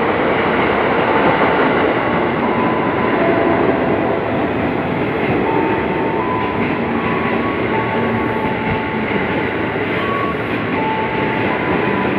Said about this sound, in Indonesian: Nah ini dia adalah KRL yang ke Bogor ya.